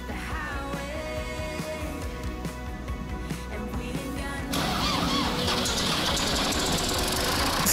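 A snowbound tractor engine idles with a steady, knocking rumble nearby, growing louder and rougher about halfway through as it revs up.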